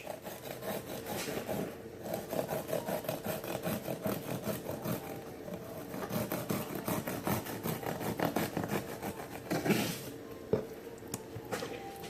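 Knife trimming the edge of a raw bonito strip, repeated close rasping strokes with a rubbing, sawing rhythm and occasional light knocks, no talking.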